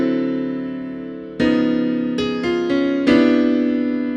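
Solo piano plays a reharmonized chord progression: a sustained chord followed by several struck chords in quick succession, clear and close, with no talking.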